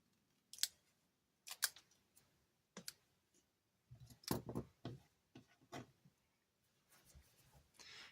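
Scissors snip vellum paper to shorten it for a craft project, giving a series of quiet, crisp clicks and cuts separated by short pauses.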